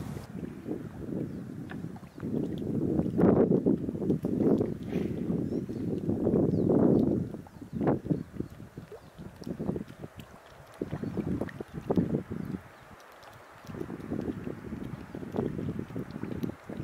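Gusty breeze rushes across a mountain lake while someone fishes, loud low buffeting in uneven waves that rise and fall, with short lulls between gusts.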